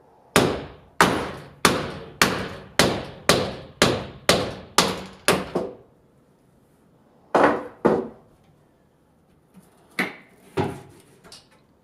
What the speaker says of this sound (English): So I'm going to hit it with a hammer.